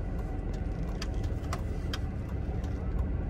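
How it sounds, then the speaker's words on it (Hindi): A car creeps forward on clutch control alone with no accelerator, a low steady engine drone near idle heard from inside the cabin, with faint ticking of an indicator. "सिर्फ क्लच से गाड़ी आगे बढ़ रही है"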